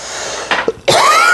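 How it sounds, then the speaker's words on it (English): A single sharp cough, close and loud, breaking through a steady background hiss. "Sorry about the cough."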